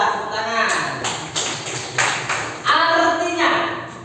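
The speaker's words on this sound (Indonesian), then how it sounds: "Iya, tepuk tangan." Several short bursts of hand clapping in a classroom, children applauding a pupil after a Qur'an recitation, with brief gaps between bursts and a voice nearby.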